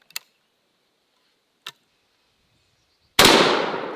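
A single loud, close blast from a 10 gauge shotgun firing a 3.5-inch buckshot shell, with a long fading tail, preceded by two faint metallic clicks.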